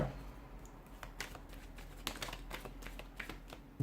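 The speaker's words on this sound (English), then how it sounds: "let's go ahead, give the cards a shuffle, and let's begin" A deck of tarot cards is shuffled by hand, giving soft, rapid riffling and tapping close up, quiet against a low background hum with no talking.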